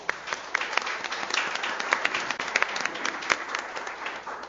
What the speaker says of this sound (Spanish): Les pido un fuerte aplauso para ellas